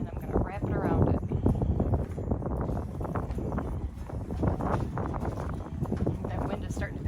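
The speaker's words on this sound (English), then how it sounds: "That wind is starting to pick up." Outdoor wind buffeting the microphone as a Christmas wreath or garland tail is wrapped and tied, a steady low rushing roar running throughout under continuous talk.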